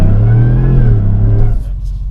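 A supercharged Hennessey HPE650 Chevrolet Tahoe RST launches hard, its V8 roaring loud and close with a deep rising rumble for about a second and a half before backing off.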